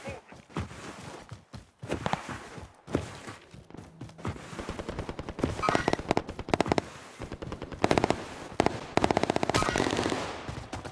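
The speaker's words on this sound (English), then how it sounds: "There's people firing from here as well." Gunfire in a multiplayer shooter video game, with near and distant bursts of automatic fire and single shots rattling throughout, growing denser and louder toward the end, alongside occasional footsteps.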